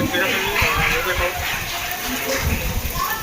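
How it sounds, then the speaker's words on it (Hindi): Heavy rain falls in a Chhattisgarh village, a loud, continuous rushing hiss of water that fills the whole stretch while a voice speaks briefly over it. "बहुत ज़्यादा ही बारिश चालू है"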